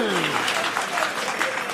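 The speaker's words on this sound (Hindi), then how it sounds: "आप आनंदित हैं तो प्रभु के लिए जोरदार ताली बजाएंगे।" Loud, dense clapping from a church congregation at a 2017 Christmas celebration, a thick steady wash of many hands close by, with a voice carrying over it.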